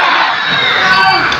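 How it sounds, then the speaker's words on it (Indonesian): A loud, close crowd at a national-themed talk event cheers and shouts in a continuous roar of voices for a guest named Bung Kobu, with no distinct clapping standing out. "Wah, tepuk tangan buat Bung Kobu."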